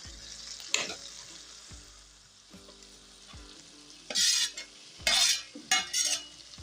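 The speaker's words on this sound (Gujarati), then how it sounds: "તો હવે આપણે અંદર જે તળેલું શાક રાખ્યું છે ને બટેકા અને ફ્લાવર એ નાખી દઈશું" Fried potatoes and cauliflower are tipped into a simmering gravy and stirred, with soft sizzling under a series of scraping spoon strokes and louder bursts of stirring toward the end.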